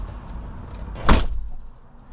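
A single brief clunk as the door of a 2003-2014 GM truck is opened, close and fairly loud, surrounded by a low idle-like hum.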